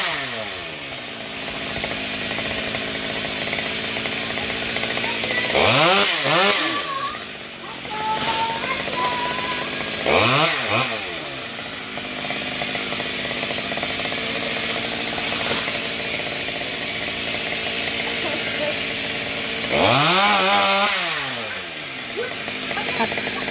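A chainsaw cuts long, thin branches of a star apple tree, revving up in three distinct loud bursts between steadier idling, with people talking over it.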